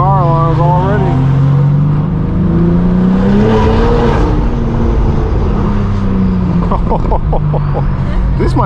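Turbocharged Porsche GT2 RS, a winged and body-kitted sports car at a car meet, revving hard with rising and falling engine tones and sharp bursts near the end, while people talk over it.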